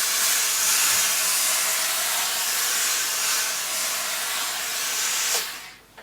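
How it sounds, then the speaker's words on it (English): A steam iron on a sewing desk hisses steadily and loudly for several seconds, a continuous broadband rush that cuts off abruptly near the end, with no talk. "It needs some sort of steam. Is my steam up and running yet?"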